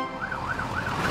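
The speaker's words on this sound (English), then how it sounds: "They're brumming too loud to hear Fiona's siren." A cartoon fire truck's wailing siren rises and falls in steady sweeps, loud and close, over a low rumble of traffic.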